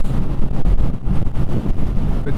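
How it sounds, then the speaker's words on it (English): Steady, heavy wind buffeting roars across the microphone while riding a Yamaha XJR1300 motorcycle at speed on an open, windy road, a dense continuous low rumble with gusting surges and no talking. "It's a pretty windy area, this part."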